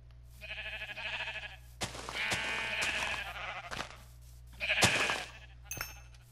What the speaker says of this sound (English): Ooh, I found a sheep here.